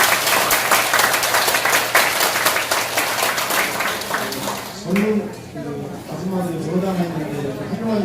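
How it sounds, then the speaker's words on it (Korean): Applause from a crowd rings out for several seconds, then fades as a voice begins speaking over the last few claps. "박수 한번 보내주세요"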